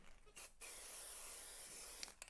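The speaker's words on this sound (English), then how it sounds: "let's just add a bit of stencil spray to the back of here" Stencil spray aerosol hisses in one steady, close burst of about two seconds onto the back of a stencil, starting and stopping cleanly, with a faint rattle at the end.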